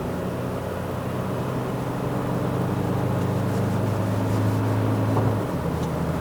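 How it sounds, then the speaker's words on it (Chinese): A 2023 Toyota Hilux GR Sport 2.8L pickup accelerates, its engine a steady low drone heard from inside the cab, rising slightly in pitch under constant road and wind noise. "我才踩不到一半的油门呢"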